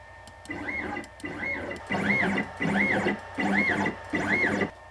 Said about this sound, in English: Move my machine into position.